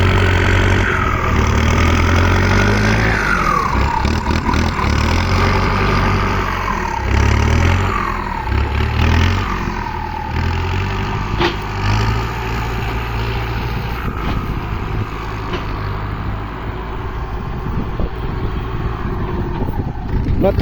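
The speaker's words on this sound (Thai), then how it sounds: "รถไถใหญ่ได้เปรียบด้วยพี่น้องไถแบบนี้นะครับนะ" A large tractor ploughs a wet rice paddy, its diesel engine droning loud and close with a steady low rumble, pitch rising and falling as the load changes, continuing without talk.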